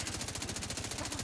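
Rapid automatic gunfire in the video game The Division 2, a steady stream of evenly spaced shots forming a continuous burst throughout, fairly loud and with no voices.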